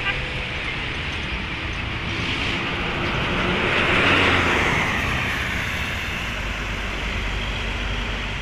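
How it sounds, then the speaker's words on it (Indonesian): A Murni Jaya Volvo B11R double-decker bus climbs a slope and takes a bend on an Indonesian road. Its engine drone rises to a broad, loud peak mid-pass and then eases off, with steady road noise throughout. "Wah, double decker langsung nanjak dan menikung teman-teman."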